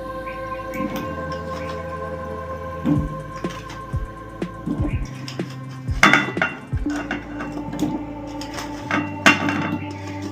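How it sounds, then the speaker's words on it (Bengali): Ivy gourd vegetables tipped into a cooking pot and stirred, metallic clanks and scraping knocks of a utensil against the pot at irregular intervals over a steady background hum, moderately close. "সবজিটা আমি তুলে দিয়ে নাড়াচাড়া করে একটা ঢাকা দিয়ে দেব"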